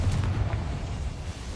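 A Confringo spell bursting in Hogwarts Legacy, a deep, rumbling explosion that booms at once and fades over a second and a half.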